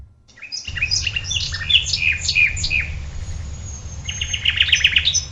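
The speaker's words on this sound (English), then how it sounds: "This was from a website that had different bird calls and spectrogram analyses of it." Recorded bird calls played back from a website: a run of quick, bright chirps and tweets, close and fairly loud over a low hum, falling quiet for a moment before a denser trill of song returns near the end.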